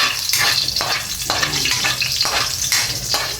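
Garlic frying in a pan, a loud, continuous close sizzle and crackle in rhythmic surges as it is stirred, with no talk.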